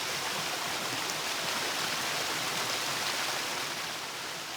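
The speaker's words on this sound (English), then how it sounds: "That really loud waterfall." A loud waterfall in the video game Gothic II, a dense, steady roaring rush of falling water that fills the whole clip at constant volume with no pauses, alone without talk.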